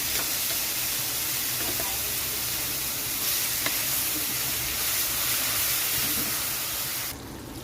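Shrimp paste hisses and sizzles steadily in hot oil in a wok as it is stirred, a dense continuous frying noise with occasional scraping, loud and close with no talking.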